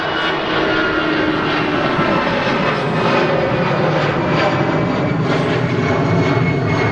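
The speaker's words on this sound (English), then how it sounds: "EasyJets departing there" EasyJet aircraft departing Manchester Airport, a continuous broadband engine roar at moderate distance, steady and unbroken throughout, with no voices.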